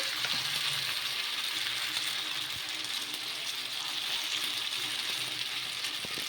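Dosa batter of wheat semolina (godhuma rava), two ladlefuls, sizzles steadily in oil on a hot pan, a continuous close hiss with faint clinks and no one talking.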